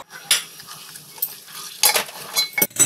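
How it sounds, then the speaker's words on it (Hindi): Vegetables (cabbage, onion, long chili, capsicum and tomato) being stirred in a pan, with faint scraping and clinks of a utensil against the metal in a few short bursts and a light sizzle, no voices. "अब इसे अच्छे से मिक्स कर लेंगे।"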